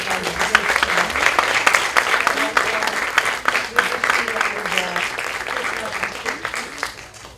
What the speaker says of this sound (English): Let's give another round of applause for everybody.